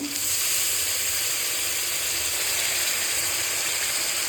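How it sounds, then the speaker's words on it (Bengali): Spice paste of coriander, cumin, red chilli paste and turmeric with a little water sizzling in a pan, a loud, steady, close hiss with no break and no voices. "সমস্ত দিয়ে মশলাটাকে একটু ভালো করে কষাবো"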